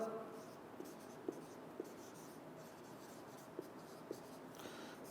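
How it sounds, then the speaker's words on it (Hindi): A chemistry teacher writes on a board during an online lecture, giving soft scratchy strokes and a few distinct taps as a faint background to a low room hush. "मैं यहां पे लिखता जाऊंगा साथ साथ"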